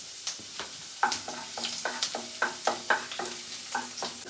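Ginger and garlic frying in hot oil in a pan while being stirred, a soft sizzle broken by a regular series of clinking spatula scrapes, close and fairly quiet, no talking.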